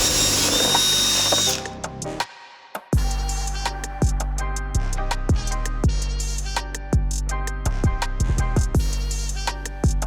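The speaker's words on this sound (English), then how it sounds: "So let's drill some holes." A power drill bores holes into a 2018 truck's center console during an interior swap. It whines in repeated short bursts with a steady rhythm, loud and close, and no talking.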